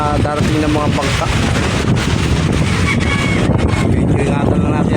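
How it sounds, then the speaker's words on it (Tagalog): Strong typhoon wind roars at Manila Bay, blasting the microphone in a loud, continuous rush with boats nearby, and a person talks faintly under the noise. "Lakas ng hangin"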